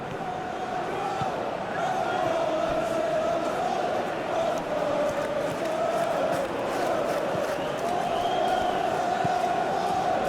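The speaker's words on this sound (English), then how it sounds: "the crowd are reacting to that now" Football stadium crowd in the video game Football Life 2026, a dense, steady roar of massed voices filling the whole stretch with rising chants and swells, loud and continuous with no clear breaks.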